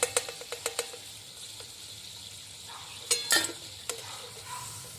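Sliced potato chips fry in hot oil with a soft, even sizzle, broken by a quick run of sharp clinks at the start and a few louder scrapes and taps later.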